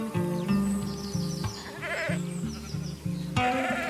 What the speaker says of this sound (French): J'élève des brebis landaises, des chèvres des Pyrénées et des poules gauloises, toutes menacées de disparition